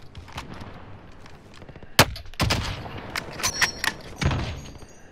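Gunfire in the shooter game Call of Duty: a sharp, loud shot sets off a burst of rapid, close-range shots, then more scattered bursts and thuds follow over a low ambient rumble.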